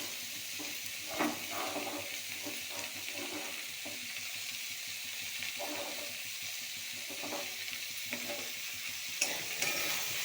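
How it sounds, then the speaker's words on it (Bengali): Boiled leafy greens poured into hot oil with fried dried red chillies, giving a steady close sizzle with scattered bursts of spatter and stirring scrapes, no talking. "আমি এবারে তাতে মিশ্রণটি ঢেলে দেবো, যে শাকটি আমি সিদ্ধ করে রেখেছিলাম"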